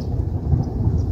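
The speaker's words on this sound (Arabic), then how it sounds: "رعدت ربي" Low rumbling thunder rolling through a rainstorm, a steady deep roar heard alone without voices.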